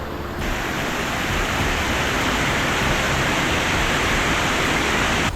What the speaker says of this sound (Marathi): उंचावरून कोसळणारा धबधबा